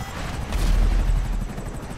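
A helicopter in a racing video game gives off a loud, close, throbbing rotor roar with rapid rhythmic chopping that swells in the middle and stays steady, with no speech over it.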